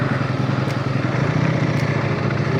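A 2025 Ducati Panigale V4S motorcycle's V4 engine running, a loud, steady, close throaty rumble with a continuous pulsing low drone throughout.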